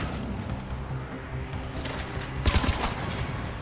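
Rifle shots in Mass Effect: Legendary Edition, a few sharp, punchy reports clustered close together over a busy, rumbling combat background, loud and near.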